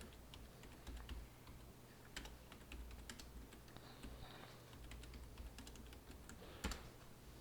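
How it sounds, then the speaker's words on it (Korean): Calculator keys being pressed in quick, irregular clicks, faint and close against a steady low background hum, with no voices. "이건 계산기 써볼게요"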